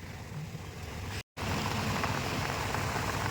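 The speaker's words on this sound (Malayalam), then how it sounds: "അടിപൊളി മഴയാണ് കേട്ടോ പെയ്യണേ" Steady rain pours down in a constant, dense hiss, with a brief dropout partway through.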